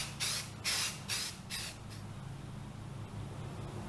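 Filler primer sprayed from a can or gun onto the body of a 1985 Pontiac Fiero 2M4 under restoration: four short, loud hissing bursts in quick succession, then a low steady hum with no voices.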